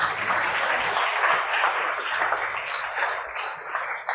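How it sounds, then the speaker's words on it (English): An audience at a talk on building a digital agency claps in a steady, dense wash of applause that holds evenly for several seconds at moderate loudness, with no voices over it. "Thanks for the clapping, but it didn't help."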